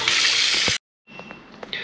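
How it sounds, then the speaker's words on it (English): Tap water runs into a kitchen sink, a broad rushing gush that cuts off abruptly, then after a short silence resumes as a softer, thinner stream with faint splashes. "So I'm gonna go ahead and fill that up now."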